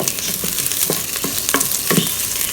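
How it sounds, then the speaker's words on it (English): Lightly pounded garlic cloves and spring onion stalks frying in a hot pan, a continuous bright sizzle broken by a few sharp crackles and stirring scrapes, close and fairly loud, no voices. "Put them in. Fry them until fragrant."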